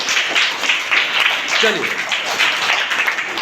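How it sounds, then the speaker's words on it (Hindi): Students in a Hindi-medium school class held an hour before regular hours applaud themselves, a dense, steady roar of many hands clapping throughout, with a voice speaking briefly over it. "एक बार ताली बजाइए आप लोग अपने लिए, तो जोरदार ताली बजाइए"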